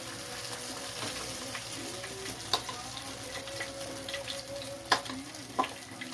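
Oregano leaf omelette batter frying in a hot pan, a steady close sizzle with occasional sharp ticks and pops, no talking.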